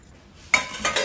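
Shredded cabbage is tossed with salt and sugar in a pan, giving a short burst of utensil scraping and clinking against metal after a quiet start.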